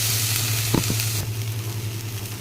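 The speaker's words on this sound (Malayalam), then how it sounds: "അതിനുശേഷം സവോളയും മുളകും കടുക് പൊട്ടിയതിന് ശേഷം ഇട്ട് കൊടുക്കുക, ഇളക്കുക." Onions and chilies fry with popped mustard seeds in hot oil for a quick egg curry. A short burst of loud, steady sizzling comes with a couple of stirring knocks partway through.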